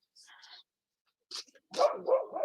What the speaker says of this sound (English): Little doggy in the background telling the neighbours' dogs who's boss.